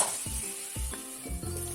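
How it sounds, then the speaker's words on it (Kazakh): Boiling water poured over browned meat frying in a pan for maqluba, a sizzling hiss with a few pulsing bursts as the water hits, close and brief with no voices. "Енді бұған қайнаған суды кішкене бетінен асырып құямыз."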